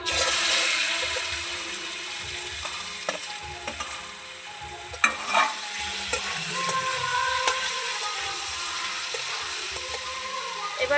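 Whole spices fry and sizzle in hot white oil for an amla (Indian gooseberry) pickle, a steady close crackle with a few sharp pops and faint stirring scrapes throughout.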